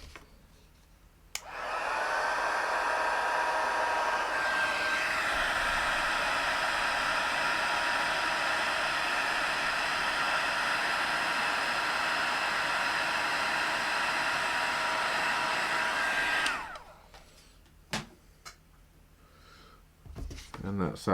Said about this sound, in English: So I'll just grab my heat tool.